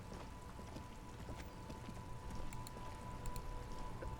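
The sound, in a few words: rain in the video game Disco Elysium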